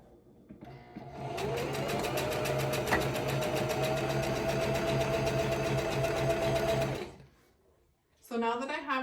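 A sewing machine stitches ribbons onto a ribbon skirt in one steady, close, continuous run of about six seconds, then stops, and a voice speaks briefly at the end.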